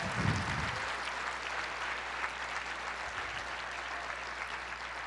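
A church congregation applauds during a sermon, a steady wash of many hands clapping at a moderate level, with a low hum running beneath.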